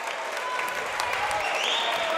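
Crowd in a full gym at a women's varsity basketball game cheers and applauds steadily, loud and dense throughout, with a whistle-like tone rising near the end.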